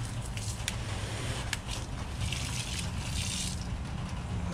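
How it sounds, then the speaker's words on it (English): A homemade hose bib sprays a steady jet of hot water, a continuous close hiss and rush with no pauses. "That's a good jet of water there."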